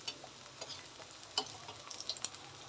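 Plantain frying in a pan is stirred, with a steady sizzle under scattered scraping and clicking strokes of the utensil, close and moderately loud, with no talking.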